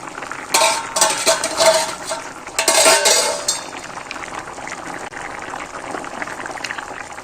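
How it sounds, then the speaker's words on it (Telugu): A pot of thin okra rasam bubbles on high flame, a soft boiling burble with bursts of louder rushing and clinking of a utensil against the pot, close by. "ఇప్పుడు ఇది హై ఫ్లేమ్లో పెట్టి దీన్ని ఒక 8 మినిట్స్ అయితే మరగనిద్దాము"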